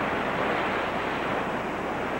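Continuous broadband roar of ocean surf at Sunset Beach, Hawaii, steady and fairly loud with some wind buffeting and no voices.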